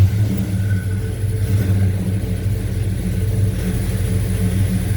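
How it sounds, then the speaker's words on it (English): A pickup truck's 350 V8 idles after starting, a loud, steady low rumble close by with a slight rise in revs partway through. "Whole truck starts up good."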